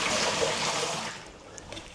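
Water emptied from the carafe of a Ninja Prestige Dualbrew coffee machine during descaling, a steady close splashing pour lasting about two seconds and easing off toward the end.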